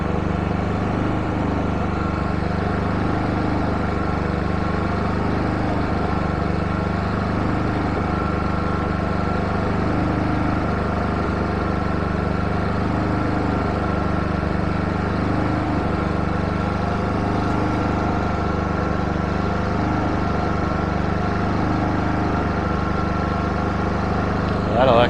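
A carbureted engine runs on with no fresh fuel supply, holding a steady, loud, continuous drone with a slow pulsing throb and no break or sputter.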